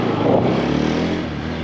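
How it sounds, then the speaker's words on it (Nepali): A motorcycle engine hums low and steady as the rider engine-brakes through a narrow lane, the pitch easing slightly as it slows, close and alone. "अनि यस्तो इन्जिन ब्रेक लगाउन जान्नुपर्छ है गाइज"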